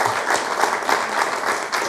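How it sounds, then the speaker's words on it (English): Audience members at a community conversation on health and well-being clap for a woman standing up, a brief, even burst of applause at moderate loudness with no talk over it. "stand up and get some applause there for being a daughter of Racine"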